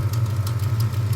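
A 1972 Plymouth Road Runner engine idles with an exhaust manifold leak, a close, steady low rumble overlaid with rapid ticking puffs.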